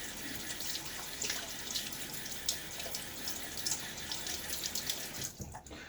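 Tap water runs steadily into a sink while a Rockwell 6C gunmetal safety razor is rinsed after shaving, a continuous close hiss with small splashy bursts, cutting off near the end.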